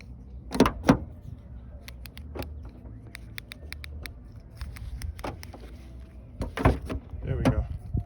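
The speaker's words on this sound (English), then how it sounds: "Now this door is a little strange." A car door being opened during an inside look at the vehicle, with several sharp clicks and clunks of the latch and door scattered across the clip, fairly close.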